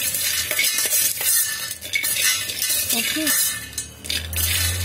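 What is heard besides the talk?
stirring peanuts roasting in an electric kettle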